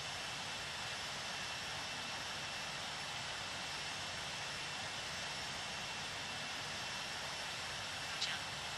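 Steady broadband jet roar from A330 airliner engines during a takeoff roll in a flight simulator, continuous and loud throughout with no voices over it.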